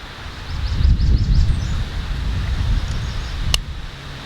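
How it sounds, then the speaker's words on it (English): Strong wind gusting across an open campsite, a loud low rumbling buffet against the microphone that surges and eases, with faint birdsong above it. "it's pretty windy"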